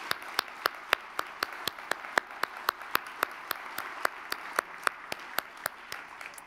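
Audience applauding a retiring organizer at a prevention awards ceremony, heard as a modest, scattered round of individual claps, fairly sparse and steady, with faint background murmur.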